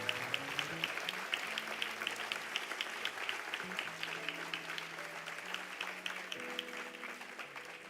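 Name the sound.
church congregation applauding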